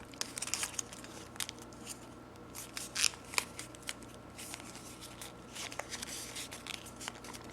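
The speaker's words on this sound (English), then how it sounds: "we're going to just kind of fold that over" Paper is creased and folded for an F-18 paper airplane, giving soft, close crinkles, brushes and quick rustling taps at an irregular pace, quiet and with no talking.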